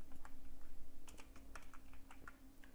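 Quick, irregular keystrokes on a computer keyboard, entering bill details such as quantity and taxable value into an e-way bill form, close and steady over a faint low hum, with no talking.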